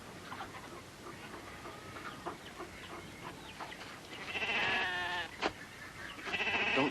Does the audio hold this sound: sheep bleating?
yes